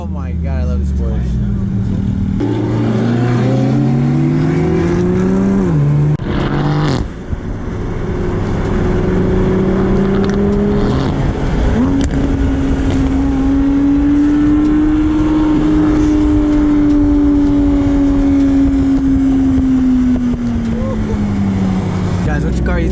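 Loud Porsche sports car engine revving and rising in pitch as it drives past at a car meet, sustained and close for most of the stretch, with people talking over it.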